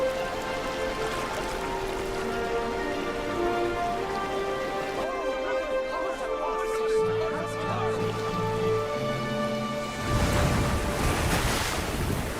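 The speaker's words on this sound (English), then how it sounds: "How are we going to cross the river? It is running high today." A high-running river rushes in a steady, loud wash of water, continuous throughout with a brief shift in texture partway through.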